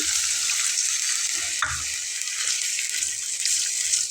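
Spiced okra cooked with raw mango and green chilli paste sizzles loudly in a pan after a splash of water, a dense steady hiss with a sharp flare partway through and no talking.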